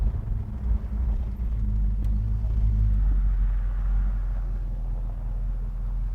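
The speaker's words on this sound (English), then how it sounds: "listen to that beautiful music coming out of the tailpipes" A 1972 Buick Gran Sport convertible cruises smoothly, its exhaust giving a deep, steady low rumble that holds even throughout with no talking.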